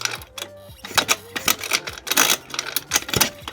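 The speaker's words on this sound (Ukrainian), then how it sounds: "Бачите, як магнітон у нас крутиться." A scooter's magneto spins under hand turning, giving fast mechanical clicking and ticking in uneven bursts, close and fairly loud, with short pauses between runs.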